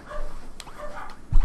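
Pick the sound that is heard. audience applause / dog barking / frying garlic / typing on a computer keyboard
dog barking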